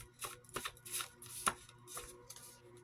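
Tarot cards being shuffled by hand, a run of crisp riffling bursts and soft slaps in uneven rhythm, close and quiet with no talking.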